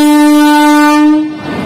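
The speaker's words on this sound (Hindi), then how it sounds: "फिलहाल ये जो ट्रेन हॉर्न मार रही ये है जानकी एक्सप्रेस" A WAP-4 electric locomotive in tricolour livery hauling the Janaki Express sounds a loud, close, steady horn for about a second before it cuts off, leaving a short noisy tail.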